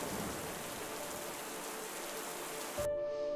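Steady dense rain patters and drips through the broken roof of a small hut with mud and dung walls, loud and even, then cuts off abruptly near the end to a faint tone.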